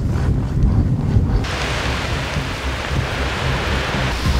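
A huge storm outdoors, with wind buffeting and heavy rain pouring down in a dense, continuous roar that stays loud throughout, no voices.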